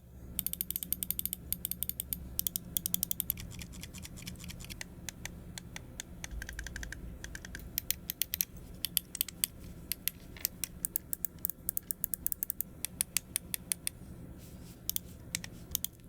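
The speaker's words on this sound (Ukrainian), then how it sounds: "Єдине досить туге коліща і тріщить більш голосно при прокрутці, ніж в моїх минулих гризунах." Scroll wheel of a Cougar DualBlader computer mouse with a stiff wheel, rapid crackling ratchet clicks in long runs with short pauses, close and fairly quiet, no voice.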